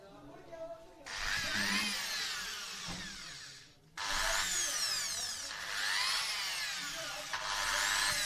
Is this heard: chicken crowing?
no